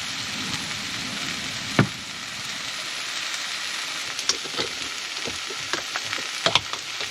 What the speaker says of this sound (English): We are cooking up steak, veggies.